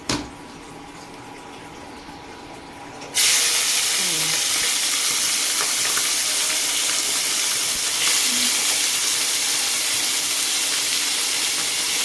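Shelled prawns dropped into smoking-hot oil in a pan start a loud, steady hiss and sizzle that jumps up suddenly after a quieter start and holds on continuously.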